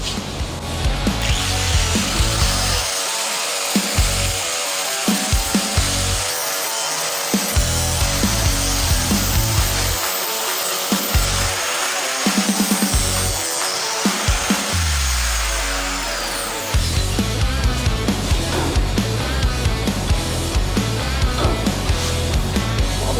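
A disc grinder grinds old weld off the chassis of a modified car in a loud, continuous rough whine, briefly spinning down and cutting off before resuming at full roar.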